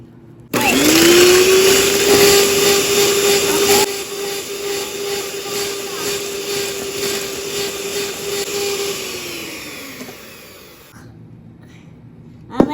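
An electric mixer beats an egg with sugar, whirring loudly with a steady motor whine that holds, then slowly dips in pitch and fades over about ten seconds before stopping, ending with a brief clatter.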